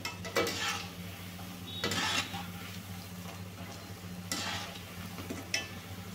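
Snack batter frying in a pan is stirred with a utensil, giving a few quiet scraping and clinking strokes over a faint, low sizzle.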